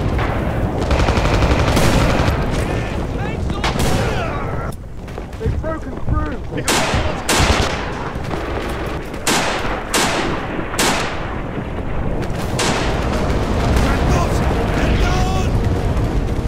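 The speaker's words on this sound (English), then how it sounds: "Artillery!" Heavy artillery fire and rapid gunfire in the Red Orchestra 2 World War II shooter, loud continuous battle noise with sharp blasts and machine-gun bursts throughout, voices occasionally heard amid the chaos.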